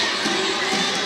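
Basketball arena crowd at a men's college game cheering and shouting steadily, a dense wash of voices with some higher children's shouts, close and fairly loud throughout.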